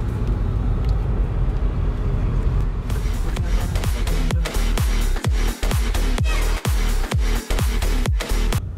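A 2021 Volkswagen Polo GT TSI with a six-speed automatic is driven in drive mode. Steady engine and road noise runs throughout, and from midway a series of sharp, regularly spaced knocks or thumps sounds over it.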